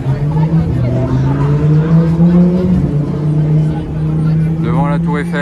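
A Porsche GT4 sports car drives along a Paris street near the Luxembourg Garden, its steady engine drone loud and close throughout, with a crowd chattering in the background.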